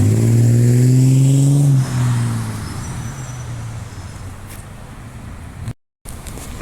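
Route 336 bus turning right at the Ellenbrook Town Centre bus stands: a loud, close engine drone with a rising tone that drops away and fades into a steady roadway rumble, briefly cutting out near the end.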